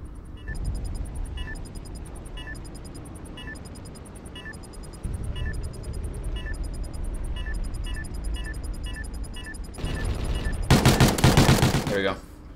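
Gunfire in Call of Duty Ghosts during a 1v1 Search and Destroy wager match on the Warhawk map: evenly spaced single shots crack steadily throughout, then a dense, loud burst of rapid automatic fire erupts near the end.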